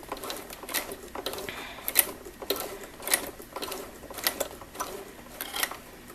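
Serger stitching slowly across a thick elastic waistband join, with irregular soft clattering bursts of the machine, some stops between them, close and moderately quiet.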